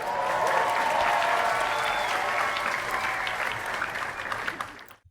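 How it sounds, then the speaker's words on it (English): A round of steady applause from a crowd at an online teachers' awards event, even and fairly soft, sustained for several seconds before tapering off and stopping. "Let's give them a round of applause."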